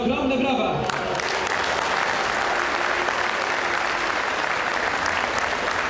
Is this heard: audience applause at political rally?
yes